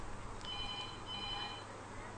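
In a TV studio during a call-in show, a telephone rings with a short burst of electronic trills. The ring sits fairly faint over a low background hum and repeats briefly before stopping.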